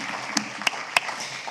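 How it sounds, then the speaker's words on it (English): Sparse applause for the crew at a cultured meat symposium, a few distinct sharp claps spaced apart over a soft, fading patter. "Another round of applause for the CMS crew"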